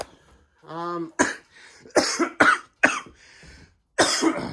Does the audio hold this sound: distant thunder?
no